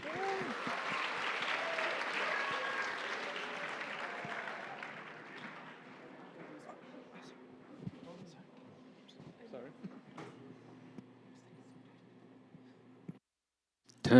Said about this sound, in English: a round of applause, everybody, please